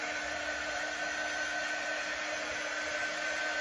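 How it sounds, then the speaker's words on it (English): A heat tool blowing hot air onto a DIY wooden house decor piece to dry it gives a steady, loud, continuous blowing whoosh with a constant tone, close up and uninterrupted, with no talking. "you can always use your heat tool and hurry things along if it needs it"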